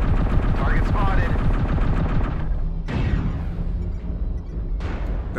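A rotary autocannon on a Corsair 7A mech in MechWarrior Online fires a dense, rapid, roaring stream for about two and a half seconds, then two more short bursts of shots follow.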